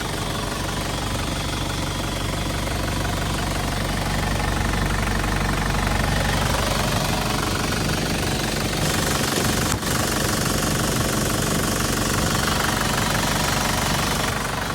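A 2005 Isuzu D-Max 2.5 Ddi turbo diesel pickup engine idles with a steady knocking rumble, loud and close, running continuously without speech.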